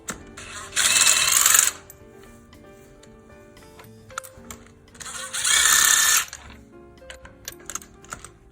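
Power tool gun spinning out spark plugs on a Toyota Avensis, two loud bursts of rapid rattling impact whirring, each about a second long, separated by quieter clinks and handling noises of the tool and engine parts, no speech.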